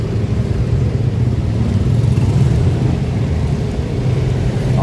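Heavy street traffic on a Davao City highway, a steady dense rumble of cars and motorcycles with engines revving, loud and continuous throughout with no talk.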